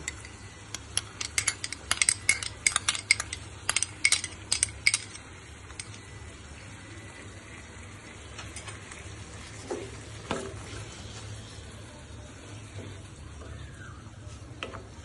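Yogurt being whisked in a bowl, a quick run of rapid metallic clinks of a spoon against the bowl, then a quieter steady sizzle as it is mixed into the pan for rui fish curry.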